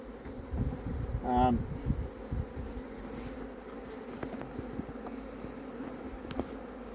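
Honeybees in an open hive box give a steady low buzz throughout, with a brief higher whine near the start and a few faint clicks, close and continuous without speech.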